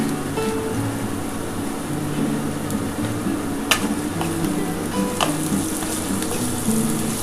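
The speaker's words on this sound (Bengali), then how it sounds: "এবার এটা ভালো করে নুন আর গোলমরিচ দিয়ে ভেজে নিচ্ছি" Sago pilaf frying in a pan with salt and black pepper, a close, steady sizzle with occasional spoon scrapes and light clinks against the pan, no talking.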